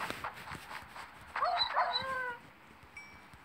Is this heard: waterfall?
no